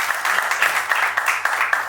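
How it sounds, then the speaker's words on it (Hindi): An audience at a birthday event gives a short, steady burst of applause, dense clapping at moderate loudness with no talk over it. "वो आपके लिए जोरदार तालियां"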